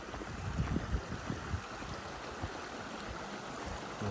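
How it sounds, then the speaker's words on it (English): Small creek flowing at a trail crossing, a continuous close burble and trickle of water with faint low thumps scattered through, no voices. "And we have a nice little creek crossing."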